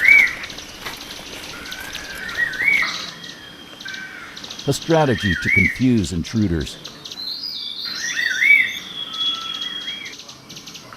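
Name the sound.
grey-crowned crocias group calling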